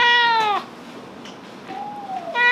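A kitten with a herpes virus infection meows twice, one loud, drawn-out cry at the start and another at the end, with a fainter, softer call in between, close to the microphone.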